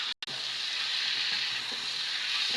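Fish head frying in spice paste, a loud, dense, continuous sizzle heard close up after a very brief gap at the start, with no talk.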